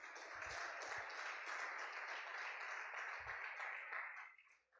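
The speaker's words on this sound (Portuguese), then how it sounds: "Você pode aplaudir Jesus?" A church congregation applauds together during a service, a steady broad wash of clapping that holds for several seconds and then fades out, with no speech over it.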